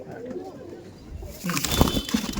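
A Dhanyabala breed pigeon coos softly in a loft, with low, throaty calls. Background rustling and noise grow louder near the end.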